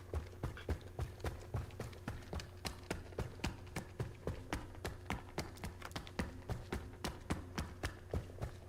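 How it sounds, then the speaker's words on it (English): Character footsteps running on a soft material in the video game It Takes Two, a fast steady patter of soft thuds repeating evenly throughout, clear and close with no talking. "what you hear now is the unique footsteps for this specific character"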